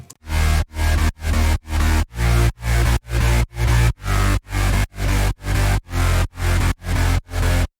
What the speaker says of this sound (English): So the bass line sounds like this in this remake that I have here.